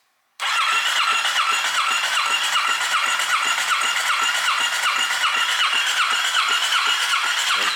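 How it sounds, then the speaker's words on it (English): A Kawasaki Ninja 650 twin-cylinder motorcycle engine, which sat unused for five years, cranks steadily on the starter during a compression test, with a loud, even, rapid rhythmic churning from start to finish and no talking. "We're going to go ahead and check the compression on both cylinders."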